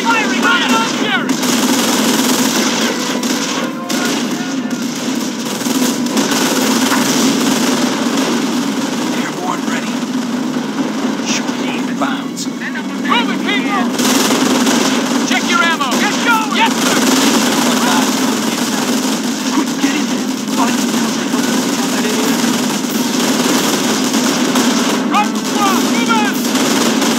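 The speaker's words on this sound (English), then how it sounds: "We got ground troops firing!" Ground troops trade gunfire in the WWII strategy game Company of Heroes, with steady rattling machine-gun bursts and scattered shots under a constant engine rumble and battle noise. Radio-style voices break in now and then.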